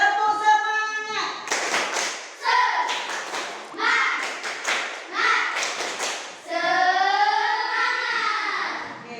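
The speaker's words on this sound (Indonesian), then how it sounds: "marilah kita tepuk semangat terlebih dahulu" A class of fifth-grade pupils claps a rhythmic cheer in bursts, interleaved with chanted voices; loud, close and patterned, ending in sustained shouting.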